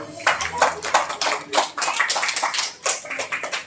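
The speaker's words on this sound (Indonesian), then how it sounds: "Tepuk tangan buat kita semua." Audience clapping hands at a thanksgiving gathering in a hotel in Yogyakarta, a quick patter of claps close by with voices talking over them.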